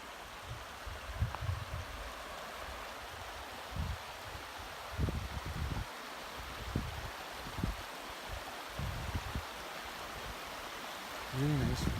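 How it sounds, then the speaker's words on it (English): Small river rapids in Algonquin Park rush with a steady broadband wash, while close thumps and handling bumps break in over the top at intervals. "Really nice little rapids in here."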